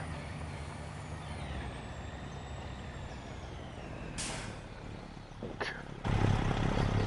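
A truck in a PS5 driving game releases its air brakes with a sharp hiss after a low idling engine rumble, preceded by a brief whoosh, fairly faint overall.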